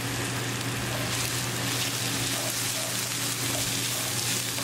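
Onions sizzle steadily in a hot pan, a constant crackling hiss with no pauses, fairly close and moderately loud.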